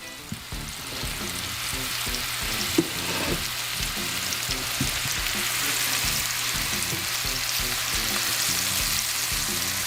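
Minced onions sizzle steadily in a hot pan, a continuous bright frying hiss with occasional soft stirring scrapes, close and alone.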